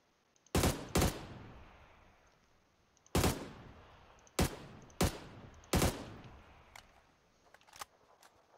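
Video game gunfire: several loud, sharp single shots spaced irregularly, some in quick pairs, each with a short ringing decay, with fainter distant shots between and no talking.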